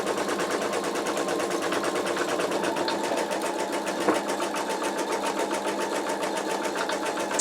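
An embroidery machine runs a placement stitch on fabric and stabilizer for a quilt block, its rapid, steady needle chatter continuous and close throughout.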